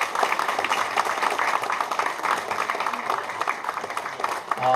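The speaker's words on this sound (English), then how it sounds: "one more time a round of applause to welcome him." A crowd at a formal gathering claps steadily in a dense, even round of applause that holds throughout, fairly loud and close.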